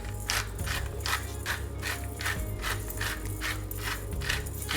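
A pepper grinder is twisted repeatedly, giving a steady run of close, gritty ratcheting clicks over a constant low background hum.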